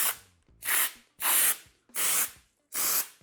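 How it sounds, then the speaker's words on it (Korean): Urethane foam can fitted with a spray nozzle, shaken and then sprayed in four loud, close hissing bursts of about half a second each, separated by brief pauses and faint clicks of the trigger. "일단 가장 궁금했던 요 스프레이 노즐부터 한번 써볼게요."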